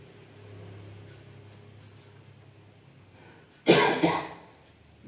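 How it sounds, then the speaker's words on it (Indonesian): A person coughs during home cooking of tilapia and beef skin arsik, one sharp loud burst followed by a second shorter cough, close to the microphone after a quiet stretch. "Batuk guys."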